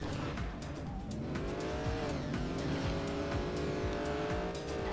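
Race cars in the Trackmania United Forever video game drive with engine whine rising and falling and repeated tire squeals, loud and continuous throughout with no talking.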